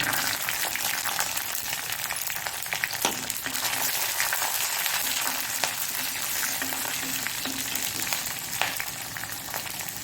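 Fenugreek seeds frying in a pan on a low flame, a steady soft crackling sizzle with a few faint stirring taps, close and unbroken.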